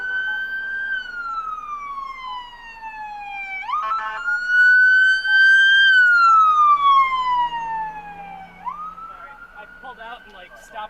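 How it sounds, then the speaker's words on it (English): An ambulance siren at a road intersection, loud and near, sweeps slowly up and down in a repeating wail with a burst of rapid yelping between the sweeps, with traffic noise underneath. "stopped an intersection for an ambulance to get through"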